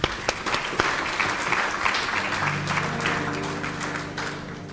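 Applause from an audience at a teaching and learning festival fills the clip, a dense steady wash of many hands clapping at once that carries on without pause.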